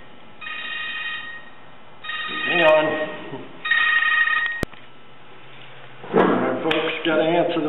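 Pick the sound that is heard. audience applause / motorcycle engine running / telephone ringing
telephone ringing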